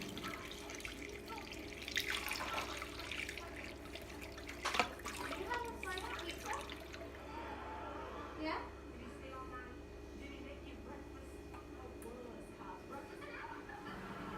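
Liquid yeast starter, about one liter, pours into a batch of Galaxy double IPA wort, a steady splashing trickle with a few brief louder sloshes, fairly close.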